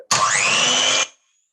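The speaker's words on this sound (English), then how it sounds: "You whisk that up using your mixer." An electric mixer whirs loudly as it whisks a milk chocolate cake mixture, starting abruptly, running at a steady high-pitched drone for about a second, then cutting off into silence.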